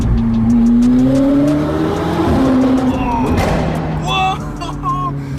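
A McLaren Senna engine revs hard as gears bang through in quick shifts, loud and close from inside the car. Excited voices talk over the sound.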